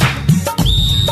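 A single short, clear whistle blast sounds within a children's Punjabi alphabet rhyme, loud and close, lasting about half a second amid brief musical accompaniment.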